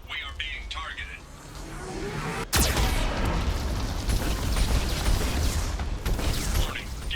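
In Mass Effect 2, a Geth cannon fires and a sudden loud blast hits about midway, followed by a sustained roar of explosions and rumbling, with voices speaking throughout.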